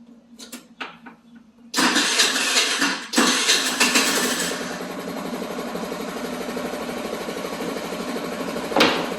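Moped engine after maintenance, a few cranking attempts, then it catches with a loud burst and settles into a steady buzzing idle, revving briefly near the end.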